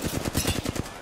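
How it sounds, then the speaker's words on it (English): Rapid bursts of automatic gunfire from a video game fire in a fast, even rhythm, loud and continuous for about a second with no voices over it. "I gave you covering fire."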